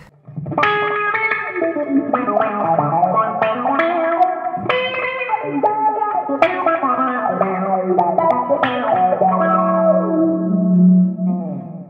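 An electric guitar played through a bass envelope filter pedal, each picked note opening into a vowel-like, quacking sweep; a steady run of phrases with no talking.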